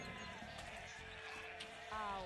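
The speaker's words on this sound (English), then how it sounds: "So I'm gonna have to eat a sheep." A sheep bleats in the Age of Empires II video game, a short wavering bleat followed by a brighter second call, fairly quiet under low game background sound.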